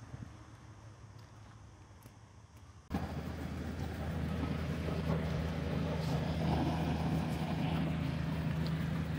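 A small boat's motor hums on the harbour water in Malta, jumping to a louder, steady low drone partway through and staying close and constant, with a light wash of wind.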